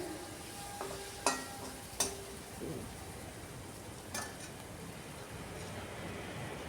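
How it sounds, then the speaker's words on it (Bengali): Spiced chicken drumsticks fry in a pan as their oil releases, a soft continuous sizzle with a few sharp clinks of utensil against the pan, fairly quiet. "চিকেন থেকে তেল ছেড়ে আসছে"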